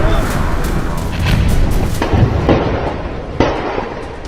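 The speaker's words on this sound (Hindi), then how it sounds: "ये धुआं, ये आग और बीच बीच में आती ये बारूदी आवाज" Gunpowder blasts go off amid smoke and fire. Repeated sharp bangs and booms are layered over a dense, continuous rumbling roar, and a voice is heard over part of it.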